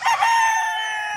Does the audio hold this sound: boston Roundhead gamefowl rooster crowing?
yes